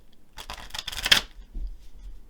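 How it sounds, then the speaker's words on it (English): Tarot cards riffle in a quick, close shuffle lasting about a second, followed by a soft settling tap and near quiet. "I'm going to shuffle and draw some tarot cards"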